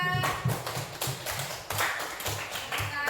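Applause for a presentation group in a classroom, scattered claps from a modest number of people, fairly close and uneven, with no talk over it.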